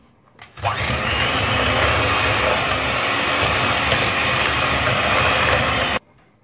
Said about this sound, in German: Und das verschlage ich alles mit Mixer